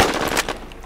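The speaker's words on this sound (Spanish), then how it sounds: "Yo voy a empezar a disparar ya." Rapid automatic gunfire bursts in a PvP shooter game, dense and loud for about half a second before tapering off.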